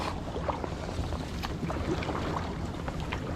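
Kayak drifting on water in cold winter conditions around freezing, with faint soft splashes and paddle-like knocks over steady wind noise, quiet and close.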